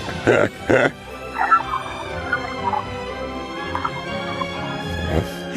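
Dogs bark loudly in two sharp bursts, followed by softer yips and whimpers over a steady background hum, with another bark near the end.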